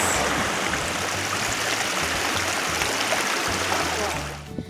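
A stream flows steadily along a prairie trail in southern Minnesota, its close, continuous rushing and gurgling water filling the whole clip before easing slightly at the very end.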